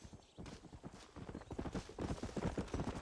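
Horse hooves clop in a quickening, uneven patter in the video game Satisfactory, fairly faint and growing busier toward the end.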